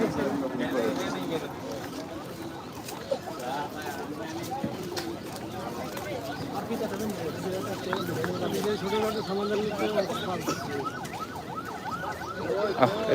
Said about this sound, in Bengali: কি করবে অ্যাম্বুলেন্সটা